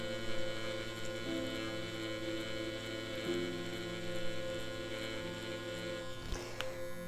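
A permanent makeup (PMU) machine runs fast for colour implantation, giving a steady, even electric buzz and hum that holds for the whole stretch with no pauses and no voices.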